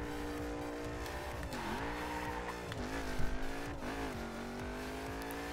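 A Mercedes C63 AMG in the racing game The Crew launches hard, its engine revving up through several gear shifts with a rising, wavering tone and some tire squeal, loud and close throughout.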